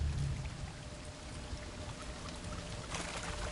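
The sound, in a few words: waterfall flowing upwards in a video game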